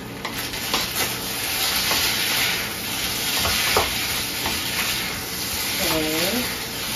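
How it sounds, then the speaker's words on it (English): Vegetable soup being stirred in a pan, with a steady sizzle and scraping stirs throughout and a few brief tonal clinks, all at close range with no talking. "I'm going to stir it now"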